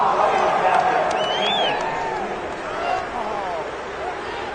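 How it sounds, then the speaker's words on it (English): A stadium crowd in the Madden 22 football video game reacts to a personal foul penalty in a Jaguars versus Bills game, a steady, loud wash of roaring and murmuring voices that swells and ebbs without a break. "this crowd does not like that call"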